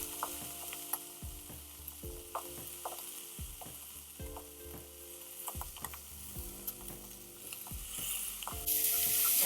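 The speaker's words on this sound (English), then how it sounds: "what we're looking for while it's in the pan is just to get a nice good sear on the flesh side" Rack of lamb searing flesh side down in a hot pan, a quiet steady sizzle broken by scattered clicks and clatters of handling, swelling louder near the end.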